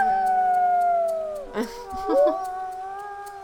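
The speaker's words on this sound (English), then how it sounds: "Orion has such an interesting howl." The wolf Orion howls in the video game WolfQuest, giving one long, sliding tonal howl that bends downward, then breaks into short wavering yelps and resumes, loud and near with no talk.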